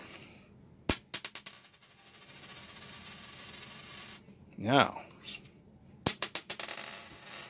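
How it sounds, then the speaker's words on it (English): A copper penny drops onto a hard surface with a bright metallic ping that rings briefly, preceded by a few light taps and soft handling noise. "You hear that ping? That's the copper."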